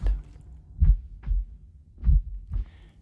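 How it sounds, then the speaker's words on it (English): A muffled heartbeat thumps in soft, low pulses, about five dull beats in irregular pairs with quiet gaps between. "the heartbeat on, with a muffled sound."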